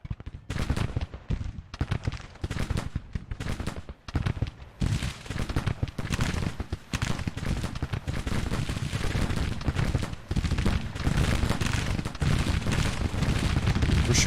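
Civil War infantry in Grand Tactician pour musket fire into a cavalry brigade, a continuous crackling roar of overlapping volleys and heavier booms, sparse and choppy at first and then thickening into an unbroken din.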